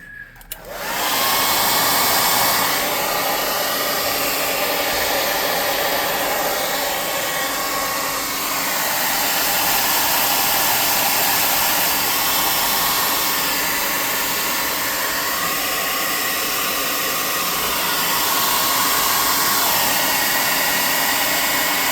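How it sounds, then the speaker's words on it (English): A hot air gun blows steadily to dry paint on a tabletop terrain model of a witch's hovel, a loud continuous close-up whoosh of rushing air that holds for the whole stretch, with no talk. "I'm going to hot air gun this bad boy again."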